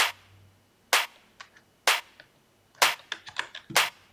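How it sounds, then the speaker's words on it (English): Sharp electronic clap sample from a funky house beat, about five bright snappy hits in an uneven groove with shorter ghost claps and a light reverb tail between them, heard on its own. "This is a clap"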